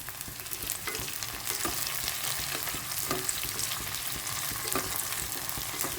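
Curry leaves crackle and sizzle in hot oil with softened onions for a spicy rustic pithla, a steady dense hiss broken by sharp pops and occasional stirring scrapes, close and alone.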